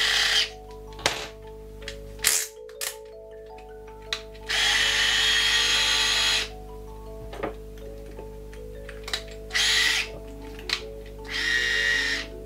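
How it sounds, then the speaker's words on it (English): A 7.2V IKEA FIXA cordless screwdriver drill bores into light wood in several short whirring bursts, with one longer burst and small clicks between runs, heard close and alone. "First of all, I would try to drill something."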